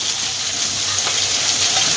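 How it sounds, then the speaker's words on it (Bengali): Five small chopped onions fry in hot oil, a loud, continuous close-up sizzle with the scrape and shuffle of stirring and no talking. "পেঁয়াজটা ভালোভাবে ভেজে নেব।"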